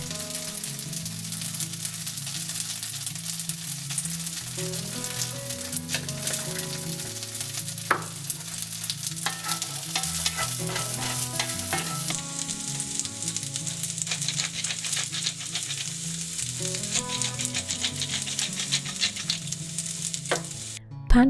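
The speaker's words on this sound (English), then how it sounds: "Pan fry dry without adding any more oil for a few more minutes until the tofu is crispy and somewhat dry." Tofu croutons pan-fry dry without added oil, a continuous close sizzle with frequent clicks and scrapes of stirring throughout, ending in a sharp clatter.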